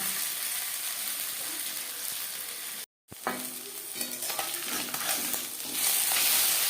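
Small mourola fish fry in hot oil in a pan, giving a steady, close, loud sizzle with occasional stirring scrapes. The sizzle cuts out briefly near the middle, then resumes with crackling spatters.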